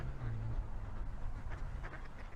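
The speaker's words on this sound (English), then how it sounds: "Hello ducks." Ducks at a small duck pond quack together in a burst of overlapping, raspy calls close by. A low steady rumble sits underneath.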